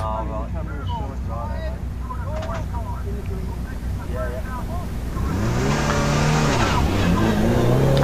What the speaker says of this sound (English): run for Neil Brighton in his newly built Peugeot 206 WRC car, and it's really nice to see this car out